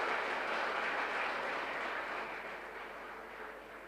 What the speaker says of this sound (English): I want to have one round of applause for all the dear students who have gathered over here